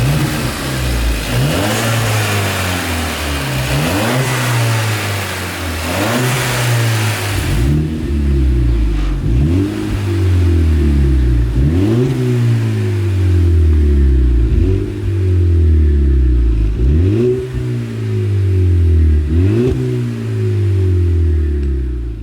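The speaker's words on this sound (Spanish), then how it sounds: "no se me olvida enseñaros cómo suena el coche, que por cierto, esta unidad tiene un escape de don silencioso" A SEAT Ibiza with a Don Silencioso exhaust revs repeatedly from idle, each blip rising and falling in a regular rhythm, loud and close with no talking.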